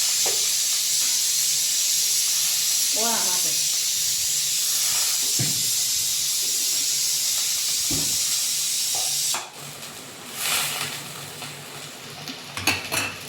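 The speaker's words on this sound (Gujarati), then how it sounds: "લીલી ડુંગળીનો વઘાર લસણનો વઘાર" Garlic and green onion tempering hisses loudly in hot oil for an olo dish, a steady close sizzle that cuts off after about nine seconds, followed by quieter stirring and a few pan clinks.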